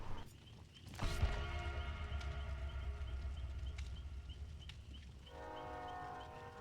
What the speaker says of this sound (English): We live near the railroad tracks, so there's a train that goes by every once in a while.